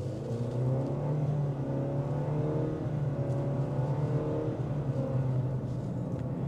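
A 2025 Nissan Kicks with a CVT accelerates smoothly on a test drive, its engine holding a steady, even drone heard from inside the cabin, moderately quiet and without talk.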